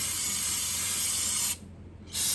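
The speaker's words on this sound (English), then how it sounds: "All right, got some brake parts cleaner." Brake parts cleaner hisses loudly from an aerosol can onto a truck's rear axle surface during seal work, a close continuous spray that cuts off sharply, pauses briefly, then starts again.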